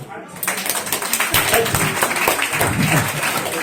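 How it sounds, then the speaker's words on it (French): At an evening hypnosis show in a bar, an audience breaks into lively applause after a brief pause, with dense, close clapping and a few voices mixed in. "on peut vous applaudir"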